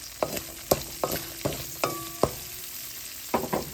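Onions frying with garlic in a pan, a quiet sizzle broken by sharp spatula scrapes and taps at an uneven pace, close by with no voices.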